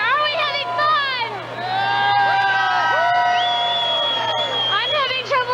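A New Year's crowd in Sydney, Nova Scotia, cheers and whoops on the eve of the millennium, with many voices sliding up and down in excited shouts, loud and close, alongside general chatter.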